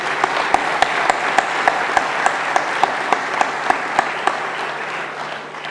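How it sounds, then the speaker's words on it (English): An audience gives a round of applause for employees at an outdoor event on a warm day, a dense steady wash of clapping with a few sharp nearby claps standing out in a regular beat, fading slightly at the end. "I'd like to give them a round of applause"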